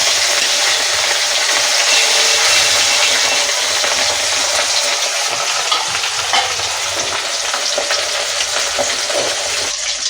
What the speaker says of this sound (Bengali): তেল গরম হয়ে গেছে, এবার মাছটাকে আমি এপিট ওপিট হালকা করে একটু ভেজে নেব